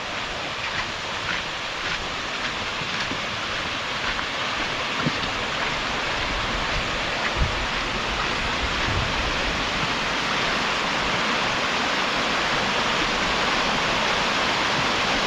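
Water pours from a height over a dam on a stream, a steady, dense rushing roar that fills the scene evenly throughout, with no voices and only faint small knocks beneath.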